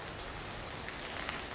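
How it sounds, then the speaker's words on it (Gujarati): Heavy rain pouring down during a monsoon downpour, a dense, steady hiss of drops hitting surfaces, unbroken and close for a brief moment. "ધુમાડા કાઢે વરસાદ"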